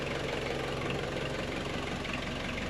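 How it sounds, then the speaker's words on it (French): An engine idles steadily after starting, a continuous low rumble with a slight knocking texture holding at even loudness throughout, no voices. "Voilà, le moteur a démarré."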